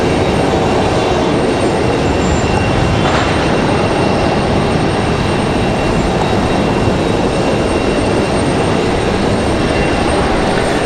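An airliner roars through its departure from Raleigh-Durham airport, a loud, steady broadband jet rumble filling the whole span with no voices over it.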